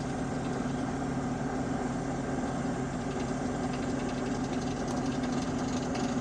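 A stock 7.3 Powerstroke diesel pickup engine labouring under a really heavy towed load, a steady, droning low rumble with constant knocking vibration, heard from inside the cab with no talk.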